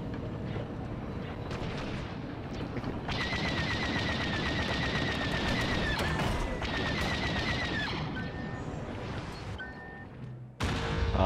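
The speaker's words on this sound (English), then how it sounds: "Rear turret, activate." A starfighter's rear turret blasts away in Star Wars Battlefront 2, sustained loud rapid-fire bursts over rumbling engine noise and explosions, with high laser tones pulsing in stretches and a sharp burst at the end.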